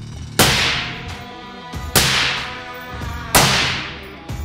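Three sharp reports from a suppressed semi-automatic M4 rifle, spaced roughly a second and a half apart, each a hard crack followed by a short ringing decay outdoors, moderately loud with no talking.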